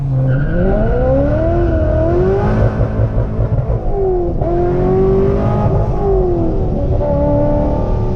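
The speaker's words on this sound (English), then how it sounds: "A little bit of tire spin." A supercharged 2005 Chevy Corvette Z51 with cams, aftermarket exhaust and a tune pulls hard from a launch, its loud engine note rising and dipping through gear changes as the tires squeal and spin, close and with no talking.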